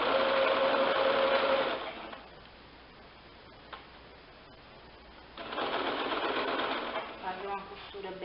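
A sewing machine stitches fabric for a cushion cover in two fast buzzing runs with a quiet pause between them, close and clear, as someone talks over it.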